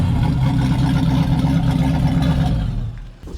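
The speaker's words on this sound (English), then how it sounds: "And here's the engine. It does run, we just tested it." The engine of a cheap boat bought at a Copart auction runs loud and close in a steady low rumble, then dips and fades near the end.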